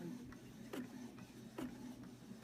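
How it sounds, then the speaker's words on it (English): A Canon MG5320 inkjet printer prints, its print head carriage sweeping back and forth in regular whirring passes with soft clicks over a steady mechanical hum, close and fairly quiet. "And it is printing."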